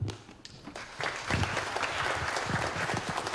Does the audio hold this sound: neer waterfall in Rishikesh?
no